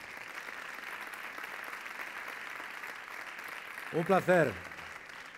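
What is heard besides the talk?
audience applause at sports gala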